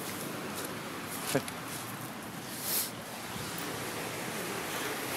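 Black Sea waves wash onto the beach by the Adler railway station in Sochi, making a continuous, fairly soft hiss of surf with a couple of brief louder swells.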